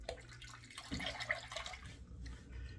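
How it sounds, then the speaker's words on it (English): A shaving razor rinsed under a running sink tap, with splashing and trickling water, moderately close and quiet, and a pause near the end. "Just rinsed it out."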